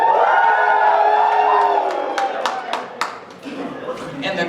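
A convention crowd at a furry fan event cheers and claps, a loud burst of voices that fades, followed by scattered sharp handclaps and a few whoops as the noise dies down.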